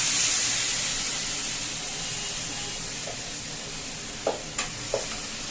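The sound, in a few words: marinated rice added on top in pot, sizzling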